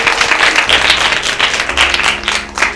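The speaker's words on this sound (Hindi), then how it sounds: "ढेर सारी तालियां योबिल के लिए" An audience applauds a child named Yobil at a Father's Day special, dense steady clapping sustained and fairly loud throughout with no talk over it.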